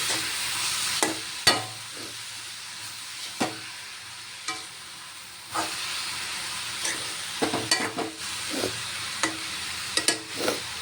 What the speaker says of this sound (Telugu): వేడినీటిలో పెట్టి పిండుకొని ఉంచుకున్న కీమాని వేసుకుంటున్నామండి. వేసుకొని బాగా కలుపుకోవాలి.